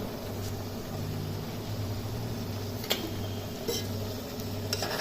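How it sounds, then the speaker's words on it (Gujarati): Vegetable curry with potatoes being stirred in a pan on the stove, soft scraping and occasional sharp clinks of a spoon against metal over a steady low background hum. "ઓકે, આપણે શાકને હલાવી દઈએ."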